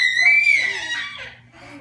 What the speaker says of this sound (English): You need to quit screeching.